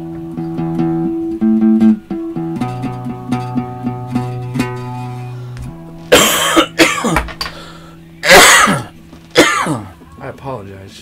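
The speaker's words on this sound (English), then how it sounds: "I'm so sorry about my coughing" A man coughs and clears his throat in harsh, loud bursts that break into sustained electric guitar tones on a B.C. Rich Dagger, the coughs landing in two or three separate fits near the end.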